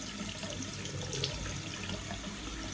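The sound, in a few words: shaving brush soaked under running cold tap water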